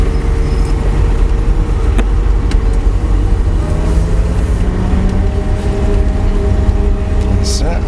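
A Lamborghini LP560-4 drives under gentle throttle, its engine a steady, loud low rumble with slowly rising tones as it accelerates, heard from inside the car throughout.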